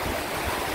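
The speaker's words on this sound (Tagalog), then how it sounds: "Galing yan sa bundok yung tubig na yan guys, yun sa bundok ng Sierra Madre." Rushing floodwater coming down from the Sierra Madre mountains along a river in Isabela, a loud, dense, continuous roar of fast-moving water.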